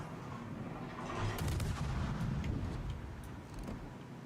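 Ship guns firing in the World of Warships video game: a distant, heavy rumble of naval gunfire that swells midway into a run of sharp cracks, then eases back to a steady low roar.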